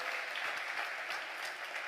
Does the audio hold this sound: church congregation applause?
yes